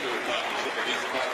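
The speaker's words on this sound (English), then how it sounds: "Huge round of applause for him as he walks off" Cricket crowd applauds an injured batsman as he walks off the field, a steady, dense wash of distant clapping from the stands, with no break in it.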